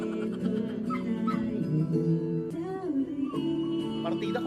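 A dog whimpers and yips in a series of rising and falling whines, fairly close and loud, with another sustained tonal sound running alongside.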